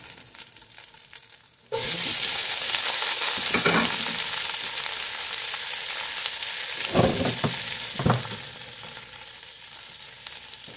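Onions hit hot oil in a pan for sautéed mung beans, an abrupt loud sizzle that holds steady, broken by a few scraping stirs of a spatula.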